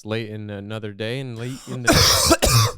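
A man's speech is followed by a harsh cough and throat clearing from a sick man, close to the microphone, loud and abrupt, in a podcast setting.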